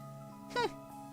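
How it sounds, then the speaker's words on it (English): A cat gives a single short, rising meow, close and fairly clear over a quiet background hum. "Sassy cat being sassy."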